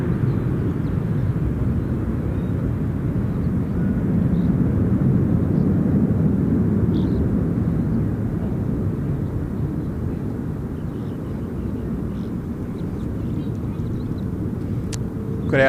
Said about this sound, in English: Got our Jetstar A321 Neo